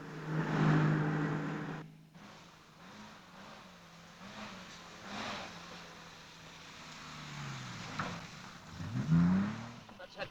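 A car engine drives past with swelling and fading revs and rising, falling tones, moderately loud and near, with a brief pause before the motor returns.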